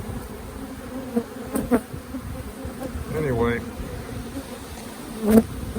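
A dense, steady drone of honeybees fills a hive box packed with bees from a cutout, buzzing loud and continuous throughout, with a few brief voice sounds and handling knocks on top.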